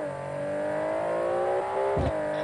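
A sports car engine in the BeamNG driving game revs with a steady rising whine, then a sharp thump of a quick gear shift near the end, heard alone at moderate volume.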